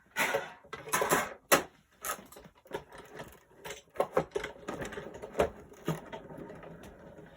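A die cutting machine feeding card through for a handmade card, heard as uneven mechanical clunks, rattles and cranking bursts, close and without talk.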